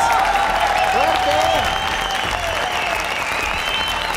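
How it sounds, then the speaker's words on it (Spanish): Steady applause from a crowd for contestants on a competition show fills the clip, with a few shouts and cheers rising above the clapping. "Por favor, un aplauso para los participantes."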